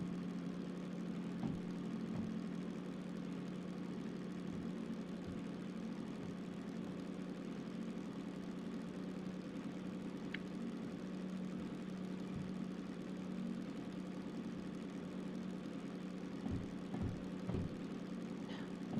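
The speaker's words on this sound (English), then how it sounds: "Engine RPMs are dropping, which means our speed is dropping." Steady low diesel drone of the DH4 locomotive in the video game Derail Valley, a constant hum with little change in pitch throughout, fairly quiet with occasional faint knocks.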